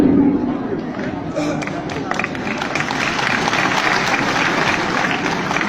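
An audience claps in a continuous wash of applause that stays loud and fairly even, with a murmur of crowd noise beneath it.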